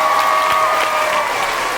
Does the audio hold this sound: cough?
no